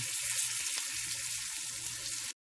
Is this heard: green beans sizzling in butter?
yes